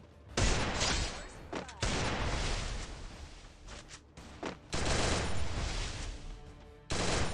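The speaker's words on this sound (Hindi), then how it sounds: "मेरे को स्नाइपर की आवाज आ रही है शायद, ये मेरे बाहर से चला रहा है" Sniper rifle fire in the shooter game Garena Free Fire: several loud, harsh blasts in succession, each ringing out and decaying before the next, with short gaps between them.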